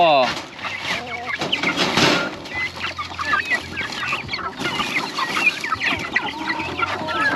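Free-range chickens and turkeys cluck steadily in a busy flock, with scattered bird calls and a person speaking now and then over the noisy farmyard.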